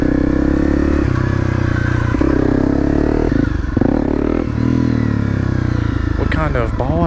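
A Suzuki 250 motorcycle held up in a wheelie, its engine a loud, steady drone that rises and wavers in revs toward the end, close by and continuous throughout.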